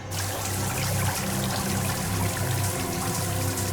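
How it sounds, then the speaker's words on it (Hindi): Water pours into a cracked submarine as a constant dense rushing and gushing, loud and close, with a low churning undertone and no talk over it. "पानी तेजी से नीचे आ रहा है।"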